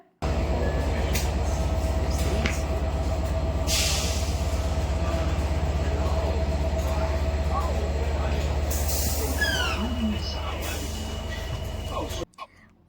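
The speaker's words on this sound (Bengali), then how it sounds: "যে ট্রেন চলেও এসছে চলো এখন ট্রেনে চাপা যাক" A train in Manchester, England rumbles steadily close by with a low droning engine, brief hisses and squeals breaking through before it cuts off.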